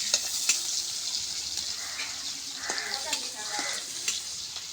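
Chopped onion and garlic sizzle and fry in oil until browning, a steady close hiss with occasional stirring scrapes, alone without talk.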